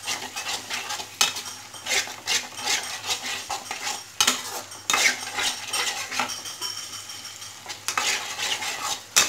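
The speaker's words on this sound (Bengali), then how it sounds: "আর দেব কাশ্মীরি লঙ্কার গুঁড়ো। জিনিসটাকে ভালো করে মিশিয়ে নেব।" Turmeric and Kashmiri chili powder being stirred into a dhaba-style paneer masala, with uneven bursts of metal spoon scraping and clattering against the pan over a low sizzle, no voices.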